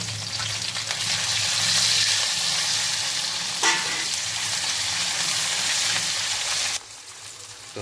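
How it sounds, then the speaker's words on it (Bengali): Ginger paste and tomatoes are stirred into spices frying in a pan for shukto, giving a steady loud sizzle with stirring scrapes. It cuts off sharply near the end. "এবার সব একসঙ্গে মিক্সড করে দেবো"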